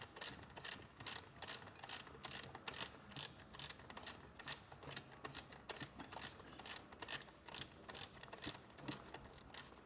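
A ratchet wrench loosens a shifter screw on an MT-82 manual transmission, giving quiet, rhythmic bursts of clicking pawl strokes repeating roughly twice a second with no talking.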